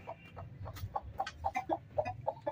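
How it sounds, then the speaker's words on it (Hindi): Broody hen clucking close by, a run of short soft repeated clucks at a steady, slightly irregular rhythm, fairly quiet. "मुनीब इसके नीचे कोई अंडे नहीं है, ये मुर्गी ने कुड़क लिया हुआ है, इसके नीचे अंडे रखो।"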